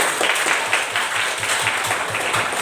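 A room full of people claps steadily and evenly for a few seconds, a dense, close round of applause with no talking.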